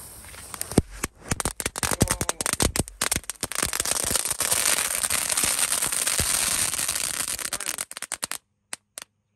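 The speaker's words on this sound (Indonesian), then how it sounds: "Selanjutnya kita nyalakan mercon pretekan 4 pak sekaligus." Four packs of mercon pretekan firecrackers set off at once on a Ramadan night, a dense, loud stream of sharp crackling pops running several seconds before thinning to a few final snaps, with no talking.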